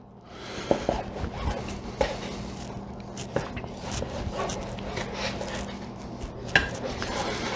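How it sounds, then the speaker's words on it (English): A knife slices beef chain into strips for grinding, with close, irregular clicks and taps of the blade on the board over a continuous rustling background. "So again, we're just cutting this into strips"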